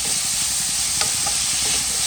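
Onions sizzling steadily in a hot pan, with scraping stir strokes and a few sharp clinks of the utensil, loud and close with no talk.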